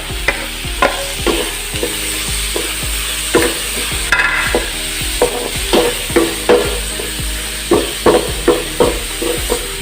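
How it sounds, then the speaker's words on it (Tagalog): Tomatoes being sautéed in a pan for an Ilocano-style Bicol express, with a steady close sizzle broken by repeated rhythmic scrapes and knocks of a stirring utensil against the pan. "Ayan, gisa-gisa lang po natin"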